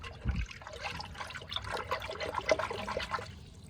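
Lixen powder is stirred into a container of water meant for pigeons, giving faint, close sloshing and trickling in quick uneven swirls with a soft knock at the start.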